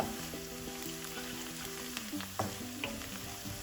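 Spice powders frying in a pan for paneer curry, a steady close sizzle with a few scrapes and clinks of stirring near the end and no talking.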